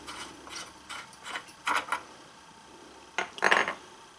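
A nut comes off a Moen faucet cartridge with a handful of short metallic ratcheting clicks and scrapes, grouped in small bursts separated by quiet gaps.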